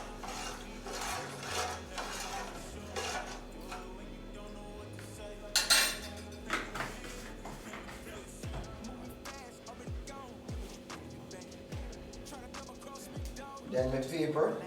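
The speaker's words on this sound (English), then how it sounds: "Give the pot a stir." A spoon scrapes and rubs around a pot of Jamaican kidney beans and rice, giving close, repeated rasping strokes and light clinks against the metal, with a voice speaking at moments.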